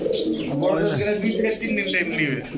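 Pigeons at a Bangladeshi pigeon market coo and chirp in overlapping bursts close by, while people talk steadily over the birds.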